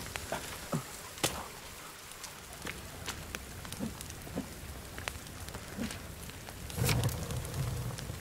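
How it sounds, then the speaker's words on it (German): Rain in the survival game The Forest, a steady soft patter with scattered sharper drops and a swell of heavier downpour toward the end, no talking over it. "Ah, es regnet ja auch."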